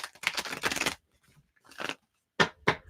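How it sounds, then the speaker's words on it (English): A tarot card deck is riffled and shuffled up close, one long burst of crisp papery flutter followed by a brief pause, a shorter shuffle, and two quick snaps as the cards settle. "And Teresa, one more shuffle for you"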